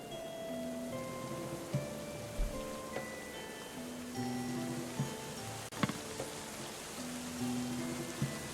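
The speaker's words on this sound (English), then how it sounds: "Not much I can do about a hailstorm." A hailstorm in the Going Medieval video game makes a continuous patter with scattered sharper ticks and knocks, over faint sustained tones, with no talking.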